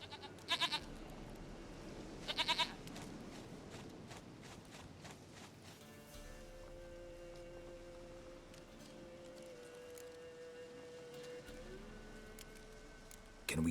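Two short, loud goat bleats in Witcher 3 at about one and two and a half seconds, each a quick wavering cry, set over quiet game ambience with faint steps and a low tonal hum.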